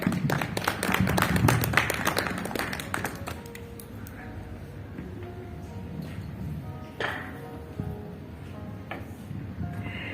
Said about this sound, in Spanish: Entonces, fuertes palmas para dar inicio a este conversatorio.